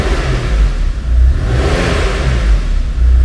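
Porsche 993 Turbo S engine blipped close by, a loud, dense roar swelling twice over a rough, rumbling idle, with no talking.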